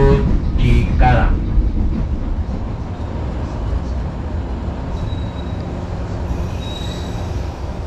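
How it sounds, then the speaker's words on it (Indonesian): The Serayu passenger train pulls into Cikarang station in Bekasi, West Java, at night: a loud, close rumble of wheels and carriages with a high squeal at the start, settling into a steady roll with faint tonal whines. "kereta api Serayu sekarang ini sudah tiba di stasiun Cikarang"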